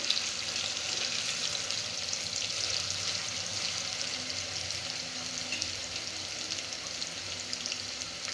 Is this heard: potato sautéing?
yes